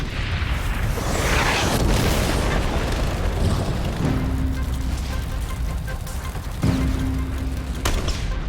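Tank shell blasts on a Vietnam battlefield as a tank takes a hit, a dense continuous rumble of booming explosions and gunfire with sharp cracks near the start and end, loud and close with no voices.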